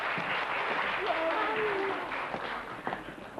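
Studio audience applauding on a Thai variety show as a guest is welcomed, a broad steady wash of clapping that runs throughout, with a voice speaking over it.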